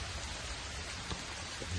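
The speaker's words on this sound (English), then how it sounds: "First rain it had in a month." Steady rain falls on a farm pig pen with a mud wallow, a dense, even hiss of drops continuing throughout at moderate, close range with a few sharper splats, no voices.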